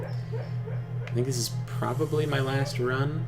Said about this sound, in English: barking in his sleep